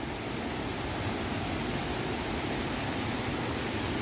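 Water pours steadily at tier 4 of Chet Sao Noi waterfall in a Thai national park, an unbroken, even rushing roar with no voices or other sounds.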